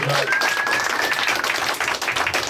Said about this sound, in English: Give all the comics a round of applause.